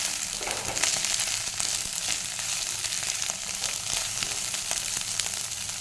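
Radhuni spice sizzles in hot oil in a frying pan, a steady, dense crackling hiss that runs without a break and is close and fairly loud, with no voices.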